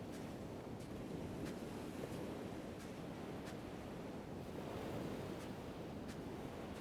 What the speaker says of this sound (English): sound of the waves